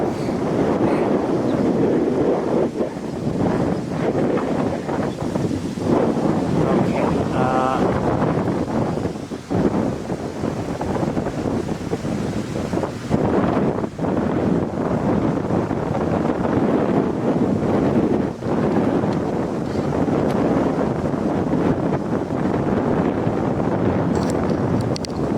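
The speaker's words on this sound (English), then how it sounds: "Sustained wind." Sustained wind buffets an outdoor microphone in a steady, loud rumbling rush that runs unbroken for the whole stretch, with no clear voices.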